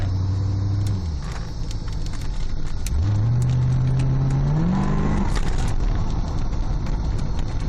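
A 1987 Chevrolet Corvette is driven and shifted, its engine droning loud and close, dropping in pitch at a gear change, then climbing steadily under acceleration before easing off into a steady cruise.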